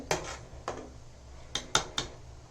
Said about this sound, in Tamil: அந்த பாத்திரத்துக்கு சூட் ஆகிற மூடியை போட்டு மூடிடுங்க